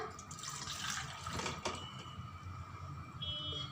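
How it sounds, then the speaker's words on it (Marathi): Cooking water from boiled drumsticks splashes and pours through a colander, a gurgling rush that peaks early then trickles and drips more quietly, with faint clinks. "या ठिकाणी मी एक चाळण घेतलेली आहे शेंगा आपल्याला गाळून घ्यायच्या"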